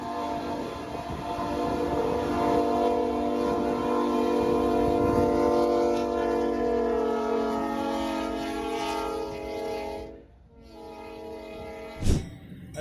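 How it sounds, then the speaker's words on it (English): A train, likely a freight, plows through deep snow, its horn sounding long and loud with a steady rumble of rolling cars beneath, then a brief drop before a sharp final burst. "this train blasts through like a moving plow on steroids"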